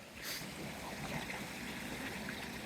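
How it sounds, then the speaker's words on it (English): River water rushes and burbles steadily at a hiking trail crossing in the White Mountains, a constant moderate wash of flowing current with no voices. "And now I'm coming across a river crossing."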